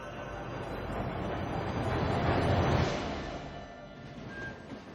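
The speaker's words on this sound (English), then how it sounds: "This is how you travel by train, zipped along at a bracing 25 kilometers per hour" An open-air train rolls along the tracks at about 25 km/h with a steady rumbling rush that swells toward the middle and then eases off, close and continuous.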